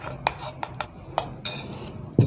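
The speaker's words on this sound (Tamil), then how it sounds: "இப்போ நான் நல்லா மிக்ஸ் பண்ணுறேன்" Semolina cookie dough being mixed by hand in a bowl, giving scattered light clinks and scrapes of a utensil against the bowl, with a sharper knock near the end.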